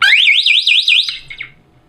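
A 12-volt strobe alarm triggered by a pressure step mat, whooping in a loud, fast rising-and-falling electronic siren close by for about a second before cutting off and fading away.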